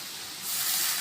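Onion paste hits hot oil in which garlic has already been fried, and a steady frying hiss swells sharply about halfway through, then holds loud and even with no talking.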